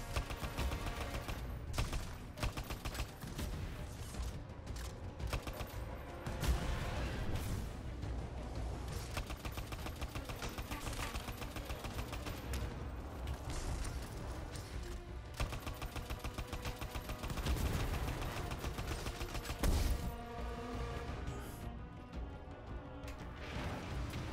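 Rapid, sustained gunfire in the 2019 game Anthem crackles almost without pause for many seconds, dense bursts of shots with occasional louder impacts, fairly faint overall and with no speech.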